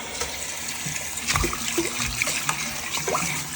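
Water draining and washing out of a household radiator, a steady close gush and trickle with small splashes and gurgles throughout, no voices.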